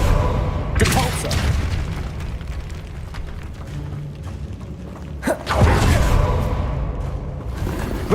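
A Depulso spell cast in Hogwarts Legacy, heard as a loud booming burst of force over a continuous rumbling game ambience, followed by a second heavy impact.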